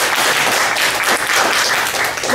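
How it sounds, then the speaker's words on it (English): Audience applause at a speech technique workshop, a steady dense wash of many hands clapping throughout, fairly loud and close. "Give her a big applause."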